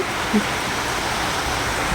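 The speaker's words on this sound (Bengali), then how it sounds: "আজকের ওয়েদারটা দেখো খুবই সুন্দর বৃষ্টি পড়ছে" Steady rain falls outside in an even, continuous hiss, heard from indoors near a kitchen, with no talk over it.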